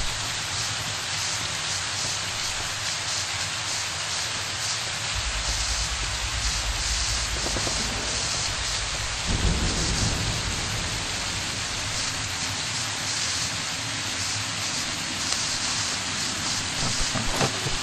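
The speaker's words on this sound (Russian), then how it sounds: "Дождь." Steady rainfall in Fallout New Vegas hisses continuously, with low rumbling swells of thunder rising midway, a constant dense wash with no talking.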